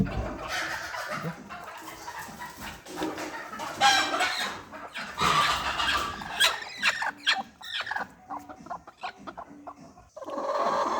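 A broody gavran country hen clucks repeatedly and fairly close, with squealing calls mixed into the uneven bursts of fowl noise.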